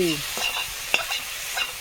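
Fish and cauliflower curry cooks in a pan at a village kitchen, giving a steady close sizzle with soft stirring scrapes and a few small pops throughout.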